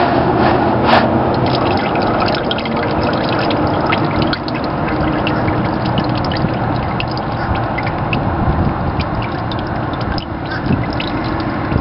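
Engine oil drains steadily from a 2007 Honda Civic, a continuous close pouring and splashing stream with small drips, loud and unbroken throughout.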